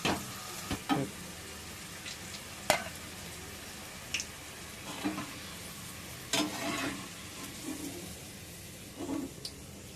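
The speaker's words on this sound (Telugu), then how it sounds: "ఈ వేడి నూనెలో మనం కొద్దిగా కరివేపాకు వేసుకుందాం. కరివేపాకు కూడా ఫ్రై అయిపోయింది." Curry leaves dropped into hot oil after the gas is turned off, a quiet steady sizzle with a few sharp pops and scattered stirring clicks.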